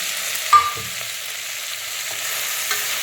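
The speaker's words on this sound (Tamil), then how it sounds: "இதுக்கு தேவையான அளவு உப்பும் போட்டு எண்ணெயில் நல்லா வதக்கிட்டு" Food sizzles steadily in hot oil, with a couple of soft stirring knocks from a utensil against the pan.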